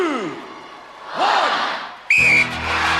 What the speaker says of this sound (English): Russia and America, you will go on my first whistle.